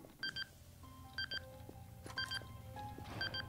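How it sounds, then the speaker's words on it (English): Short electronic beeps repeat in a DarkRP game, four bursts of paired tones spaced about a second apart over a low rumble and steady tonal hum. "Why is it beeping?"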